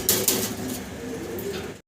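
Domestic fancy pigeons coo steadily and fairly close, a soft rolling murmur running through nearly two seconds, with another bird's call overlapping at times.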